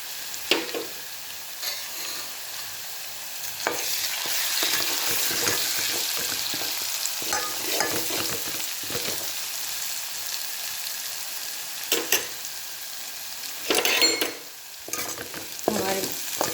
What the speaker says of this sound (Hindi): अच्छे से भून लिया है।